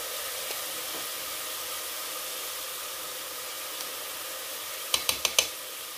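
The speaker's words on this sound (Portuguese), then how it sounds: "E agora eu vou deixar esse alho com a cebola dar aquela leve douradinha" Chopped onion and about four finely minced garlic cloves sizzle in a preheated pan, giving a steady soft hiss with no talk, and a quick run of four light clicks near the end.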